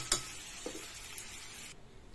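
Mutton curry stirred in a pressure cooker, a faint scrape or two over a low sizzle that cuts off near the end, quiet and close.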